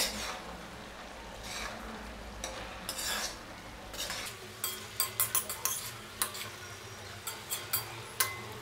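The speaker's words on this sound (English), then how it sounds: "Give it a good mix" Cauliflower and peas bhaji with chopped fresh coriander being stirred in a pan, a soft scraping mix followed by a run of sharp spoon taps and clinks against the metal, moderately close with faint background hum.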